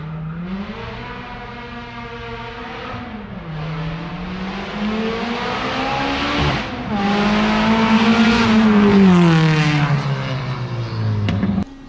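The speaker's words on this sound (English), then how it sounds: "So you guys saw Martin did some street pulls, tested the new exhaust system." Car doing street pulls with a new exhaust system, engine climbing through gears in rising sweeps with brief shift dips, getting louder and closer before cutting off abruptly.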